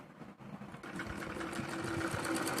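Electric sewing machine stitching a salwar, running in a steady continuous whir that grows slightly louder and more even after a brief start, close up with no talking.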